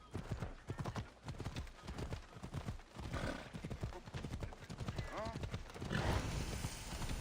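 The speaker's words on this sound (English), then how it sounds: "I love the flaming horse so much." Flaming horse galloping in Assassin's Creed Odyssey, a rapid steady clip-clop of hooves running throughout, fairly quiet and close, with a brief whinny near the end.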